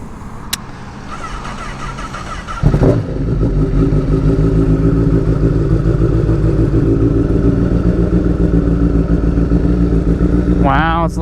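A 2015 Honda CBR1000RR Fireblade motorcycle engine cranks and fires up with a sharp burst, then settles into a loud, rough, throbbing idle close by, with a brief rev at the end.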